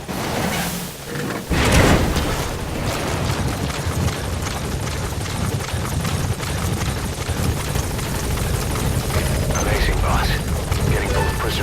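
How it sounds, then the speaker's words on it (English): A support helicopter in the video game Metal Gear Solid V: The Phantom Pain, its steady loud rotor roar filling the scene after a sharp thump, with radio voices talking over it. "Extraction arrived and support helicopter has arrived."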